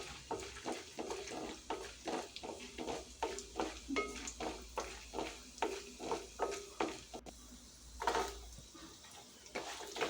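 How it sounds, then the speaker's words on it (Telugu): Tempering spices frying in hot oil, with a soft sizzle under a regular rhythm of spoon strokes scraping the pan as the seasoning is stirred. "ఆయిల్ వేడైన తర్వాత ఈ పోపు దినుసులన్నీ వేసేసుకోవాలి ఇవన్నీ మంచిగా రంగు మారే వరకు ఫ్రై చేసుకోవాలి"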